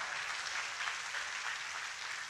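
A church congregation clapping in praise during a service, a soft, continuous wash of many hands heard from a distance, steady and without voices.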